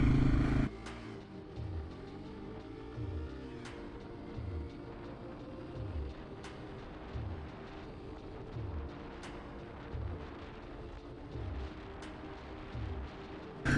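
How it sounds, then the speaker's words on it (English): A Yamaha TW200 small single-cylinder motorcycle accelerating toward 55 mph, its engine rising in repeated pulls with each gear shift, heard fairly faint under steady wind and road noise, no talking. "this bike will actually get me up to 55 miles an hour relatively quick. I could show you."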